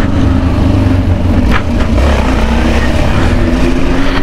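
Loud motorcycle engine revving close by, a continuous rough roar with throttle blips, outdoors in a favela street; no talk.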